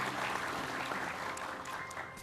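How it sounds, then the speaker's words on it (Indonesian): Studio audience applause on an Indonesian television talk show, a steady, moderately loud wash of clapping that carries on for the whole stretch without clear voices. "Boleh tepuk tangan buat cewek perkasa."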